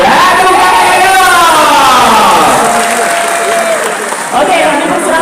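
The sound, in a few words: crowd applause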